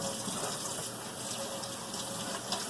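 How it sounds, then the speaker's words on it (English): Tap water gushes steadily over a makeup sponge being rinsed, a continuous close hiss of running water at a moderate, even level with no talk over it. "I'm going to put it under the water and squeeze out the excess"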